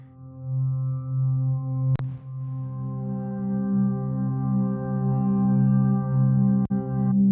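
A sustained, steady synthesizer pad drone with stacked harmonics, slowly shimmering, broken by two sharp clicks.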